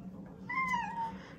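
A house cat at home beside a cat tower gives a single drawn-out meow, close and clear, against a quiet indoor background with no talking.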